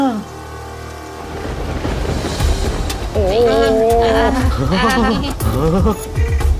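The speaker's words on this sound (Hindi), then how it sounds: "इस बारिश को भी अभी शुरू होना था।" Rain falls with thunder rumbling beneath it, a steady wash that grows louder partway through while voices talk over it.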